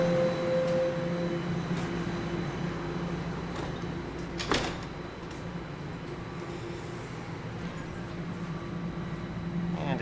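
Subway train doors slide shut with a short thud on a metro platform, set against a steady low rumble of the stationary train and faint ambient hum; a brief chime sounds at the start.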